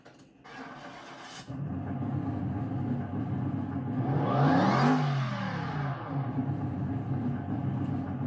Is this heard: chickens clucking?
no